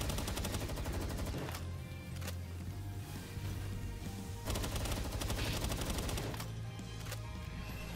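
Sustained gunfire from shooting in the Palworld video game, a loud, dense and continuous barrage of rapid shots that runs throughout with no break.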